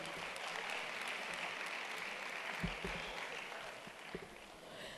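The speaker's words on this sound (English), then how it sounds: "A round of applause for her, please." Steady applause from a conference audience, a dense wash of clapping that fills the whole stretch and eases slightly toward the end.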